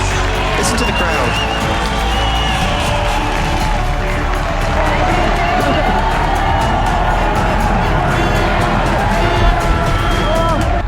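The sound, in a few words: crowd cheering at motocross contest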